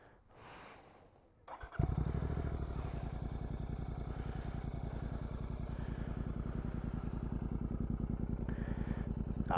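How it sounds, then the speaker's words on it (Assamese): A GT 650 motorcycle engine fires up at night after a moment of quiet, then settles into a steady, throbbing idle with a fast regular pulse, loud and close. "বাইকখন ষ্টাৰ্ট কৰোঁ তাৰপিছত আৱাজটো শুনিয়ে মানে দিলটো মানে খুচ হৈ যায়"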